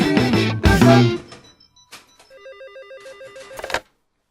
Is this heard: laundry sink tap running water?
no